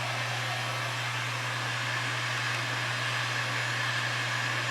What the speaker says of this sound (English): Warm up your heat gun.